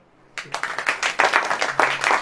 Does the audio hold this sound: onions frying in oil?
no